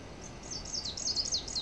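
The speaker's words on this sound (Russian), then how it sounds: "Но птички как поют." Small birds chirp and trill among blossoming bird cherry trees beside the Belaya (Agidel) river in the Southern Urals, a faint, quick run of repeated high calls over a low outdoor hum.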